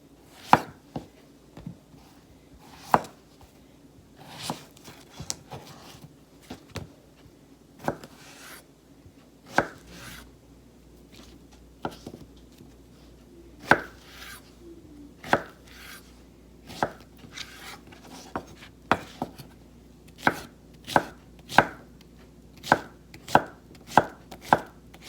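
Zucchini being chopped with a knife on a board: crisp, close knocks come irregularly at first, then speed into a quick, steady run of cuts near the end, with no speech.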